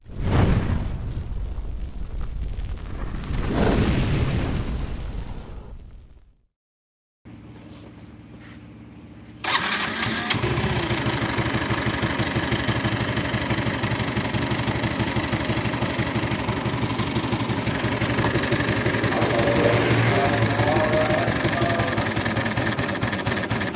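Motorcycle engine with a CVT transmission, losing power and cutting out under throttle, roars loudly and steadily for most of the stretch after a brief quiet gap, with short voices early on.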